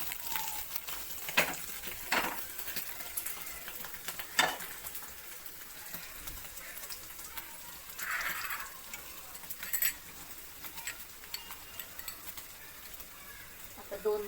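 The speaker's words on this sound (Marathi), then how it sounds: "बऱ्यापैकी आपलं पनीर परतवून झालेलं आहे।" Paneer sautéing in oil in a pan, with a steady sizzling hiss and several sharp scrapes and clinks of a spatula against the pan, close by and with no talk.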